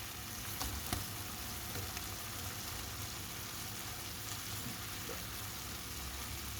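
Broccoli hits a pan of frying beef amid a steady, dense sizzle that holds evenly throughout, with a few faint clicks and stirring scrapes close by and no talking.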